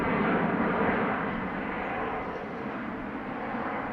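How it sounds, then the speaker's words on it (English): A DHL Airbus A300 freighter takes off from Amsterdam Schiphol, its broad jet roar heard from a distance, steady and gradually fading over a few seconds. "it will be the DHL, the Banana A300, off to Leipzig, already taking off"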